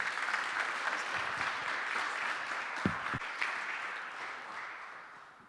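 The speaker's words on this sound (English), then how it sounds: "So one more round of applause." Audience applause at the London VC Summit pitch competition, a continuous moderate patter of many hands heard from across the room, with a couple of soft thumps partway through before it tapers off.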